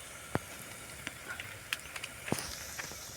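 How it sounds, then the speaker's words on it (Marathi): Onion frying in oil in a pan for a Marathi vegetable dish, a soft steady sizzle broken by a few sharp pops and crackles, heard close with no talking. "तेलामध्ये हा कांदा चांगला तळून घ्यायचा आहे"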